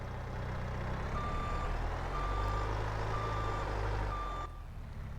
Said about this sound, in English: let's hop in the skid steer